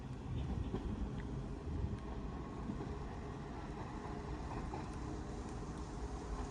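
Class 331 train no. 331103 pulling out of Wigan North Western station for Liverpool, a steady low rumble and broadband rolling noise throughout, fairly even in loudness with no voices.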